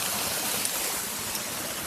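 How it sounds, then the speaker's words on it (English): A waterfall roars as a constant, dense broadband rush of falling water close by, steady and unbroken, with no voices over it. "I just wanted to show you guys this beautiful waterfall right behind us"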